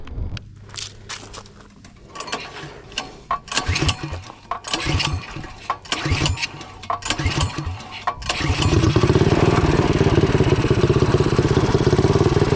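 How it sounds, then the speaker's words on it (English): Turbocharged mini bike engine, a viewer's stage 3 build, cranking in sputtering bursts before catching and settling into a loud, steady run, close by. "So we're just gonna run this on the mini bike, see what it feels like"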